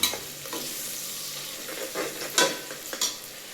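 Onions sautéing in a pan with a soft continuous sizzle, broken by a few louder scraping stirs of a spoon toward the end, close by with no talking.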